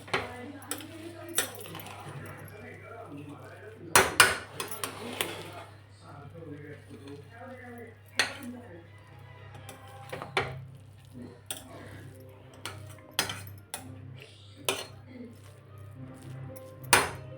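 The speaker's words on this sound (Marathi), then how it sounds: "हलवून घेऊ तो बाजूनी सगळा" A spoon stirs masala rice (masale bhat) in a metal pan, making scattered clinks and scrapes of irregular loudness over a low steady hum, with a voice briefly heard.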